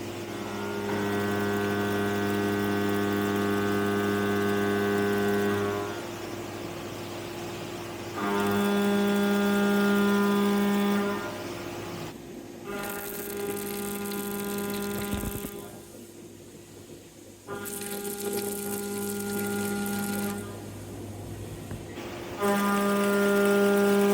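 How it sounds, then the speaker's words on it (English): Back washdown running on a Tormach CNC machine, a steady tonal machine hum with bright harmonics that cuts out and resumes in several sections, close and continuous, with no talk. "Oh, there's the back washdown is running."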